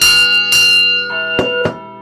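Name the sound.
cow's bell ringing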